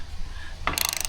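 Hardware on a shrunken gate post at an off-grid property is tightened with a ratchet, a brief close burst of rapid metallic clicking after a short quiet lead-in.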